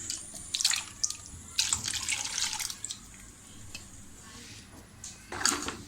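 Water splashed into a mixer jar to rinse out leftover spice paste for a Malvani fish curry, coming in short, bright watery bursts with quieter gaps between them.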